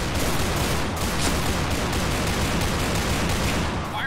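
A pair of Python revolvers firing in the shooter game Piercing Blow, a dense, loud, continuous volley of gunfire that fills the whole stretch with no pauses.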